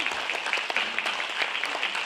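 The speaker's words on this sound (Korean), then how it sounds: "박수 한번 보내주시죠" A crowd at an award ceremony claps steadily for a couple of seconds, a dense, even patter of many hands with no voices over it.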